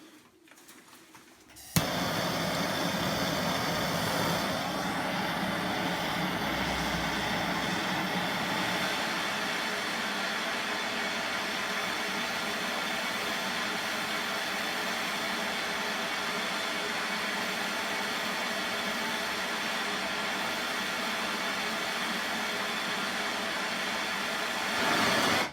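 A torch roars steadily and loudly while a flywheel ring gear from a 1986 Range Rover is heated and slowly spun, a continuous broadband hiss that holds unbroken for over twenty seconds.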